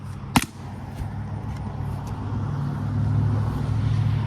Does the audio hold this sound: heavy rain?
no